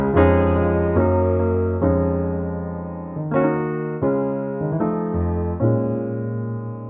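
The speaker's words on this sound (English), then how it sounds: "So to start us off, I've got the Spitfire Labs piano open" Sampled piano chords from the Spitfire Labs piano ring out one after another, each struck cleanly and left to sustain and fade before the next, played alone.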